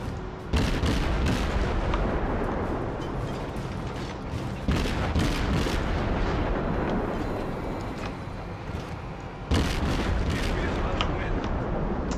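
Naval guns firing at a destroyer in the World of Warships video game: three booming salvos spaced several seconds apart, each trailing into a long heavy rumble, loud and close, with a voice speaking.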